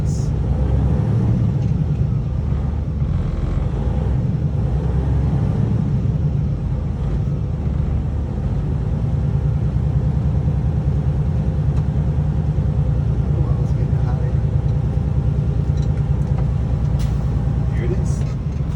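A truck engine idles with a steady low rumble, running continuously to build up air pressure for the brakes, with no speech over it.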